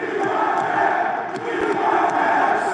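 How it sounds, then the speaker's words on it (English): Sold-out wrestling crowd at the Freedom Coliseum in San Antonio chanting for Jeff, a loud, rolling mass of voices in rhythmic unison filling the arena, steady and dense throughout. "Sold out crowd here at the Freedom Coliseum, San Antonio saying, we want Jeff."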